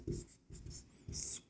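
A pen scratches across paper in three short bursts of strokes, very quiet and close, with no talking over it.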